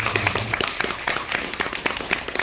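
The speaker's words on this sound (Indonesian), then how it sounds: "Aplaus kepada Ibu." Scattered applause for a woman at the opening of a painting exhibition, a room of hands clapping in quick, uneven bursts at moderate distance, with a brief low hum near the start.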